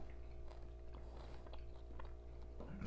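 Crunchy biting and chewing of a scorpion, close to the mouth, with a run of irregular crisp crunches over a low steady background hum and no talking.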